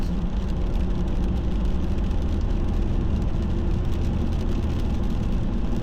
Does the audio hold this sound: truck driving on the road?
yes